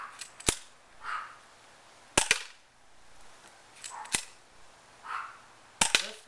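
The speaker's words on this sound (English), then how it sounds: "This gun is supposed to shoot at about 250 FPS, and I'm getting pretty good grouping there." CO2-powered airsoft pistol rated around 250 FPS, fired outdoors toward a fence: five sharp single shots spaced roughly a second or more apart, each a crisp pop with a brief hiss of trailing gas, one shot a quick double crack.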